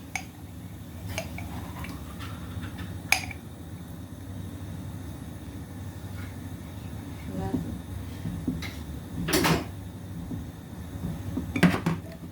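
Tender coconut pudding ingredients being mixed in a bowl, with faint wet stirring, soft clinks of utensil against dish and a few sharper knocks, fairly close and intermittent over a low background.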